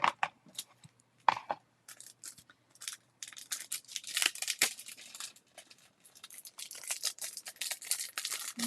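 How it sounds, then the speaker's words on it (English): Sharp, crisp snips and crunchy clicks from Golden Forge embroidery scissors come in irregular bursts, close and fairly quiet, cutting through cross-stitch material. "these are called Golden Forge scissors"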